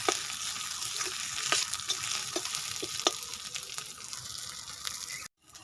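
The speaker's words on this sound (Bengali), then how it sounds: "আদা রসুনটা একটু টমেটোর সঙ্গে ভেজে নেব" Ginger-garlic paste and chopped tomato frying in a pan for a ghugni chaat, giving a steady close sizzle with scattered stirring clicks and scrapes, ending abruptly.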